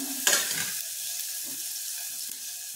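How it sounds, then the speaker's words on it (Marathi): Tomatoes for masoor dal sizzle in a hot pan, with a spoon scraping and stirring them in a burst at the start and then a steady, close frying hiss with light stirring, no voices. "टॅमॅटो थोडा परतायचा आहे"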